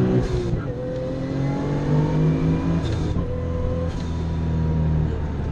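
A Nissan Fairlady Z with an RB26 engine accelerates hard in second gear, rising engine tones sweeping upward through several short pulls, loud and close throughout with no voices over it.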